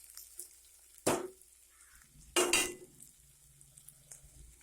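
Bottle gourd pieces fry in oil with chana dal, urad dal, curry leaves and a paste, giving a quiet steady sizzle broken by two loud bursts as the mix is stirred or tossed.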